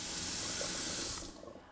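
Water runs from a three-way kitchen tap with softened hot and cold and unsoftened cold supplies, filling drinking glasses: a loud, steady close rush of water that cuts off near the end, leaving quieter room sound.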